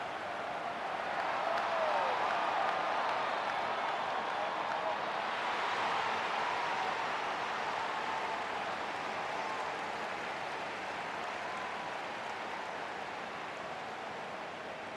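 Crowd applauding at an AFL football match between Geelong and Gold Coast, a dense, steady wash of clapping and cheering heard from a distance throughout, without clear talk on top.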